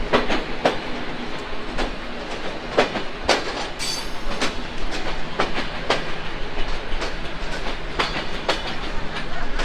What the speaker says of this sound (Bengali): তো আমরা ডিপার্চার নিচ্ছি যশোর রেলওয়ে জংশন থেকে